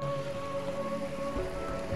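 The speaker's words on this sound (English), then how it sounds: "It was still raining." Steady rain falling in Yosemite Valley during a soaked camp on the Pacific Crest Trail, a constant even patter close around with no voices.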